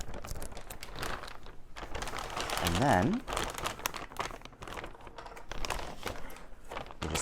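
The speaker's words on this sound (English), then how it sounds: "I like to use the little zipper thing, which it's actually a removable clip that kind of works as a zipper" A plastic vacuum storage bag holding 3D printer filament is sealed with a removable zipper clip, giving close, steady crinkling and rustling of plastic throughout, with a person speaking briefly.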